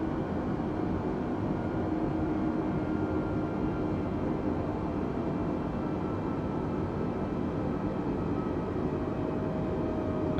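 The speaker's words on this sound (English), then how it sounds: "I hear the engine spooling down." A steady, broad roar of an Airbus A320neo jet engine spooling down in Microsoft Flight Simulator 2020 drones on for several seconds, constant and fairly loud with a faint tonal whine inside it.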